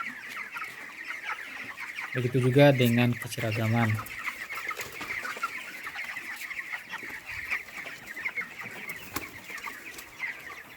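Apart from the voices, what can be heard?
broiler chickens clucking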